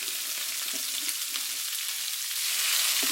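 Shrimp fry in oil with garlic, giving a steady close sizzle that swells a little louder near the end, with faint stirring clicks underneath and no talk.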